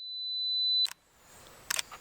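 A camera's self-timer beeps in one long rising tone, then the shutter fires with a crisp click, followed by a second mechanical clack as it resets, close and clean in a quiet woodland at sunrise with no talk.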